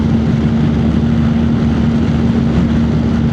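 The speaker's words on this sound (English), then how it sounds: "Great engine braking as well with these bikes as you're coming up." A 2026 BMW R 1300 GS Adventure motorcycle engine drones steadily while riding, a loud constant hum with a fixed low tone and rushing wind noise, no speech.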